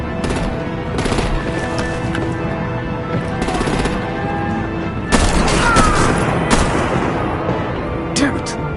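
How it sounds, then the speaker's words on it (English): Artillery fire from the Batman Telltale video game: a dense barrage of booming blasts and rattling bursts rolls on throughout, swelling louder midway and ending with a few sharp cracks, layered over thick battle noise. "Bring out the artillery and disable their vehicles!"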